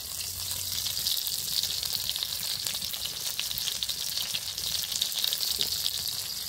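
Sour-style tok fish frying in hot oil, a steady broadband sizzle that stays loud and even throughout, with faint stirring and no voices over it.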